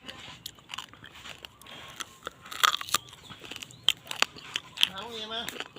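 Grilled buffalo skin bitten and chewed up close, a string of sharp crisp crunches and crackles, with a voice murmuring in between.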